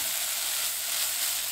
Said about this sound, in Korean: 누렇게 되지 않게 살짝 볶아줍니다.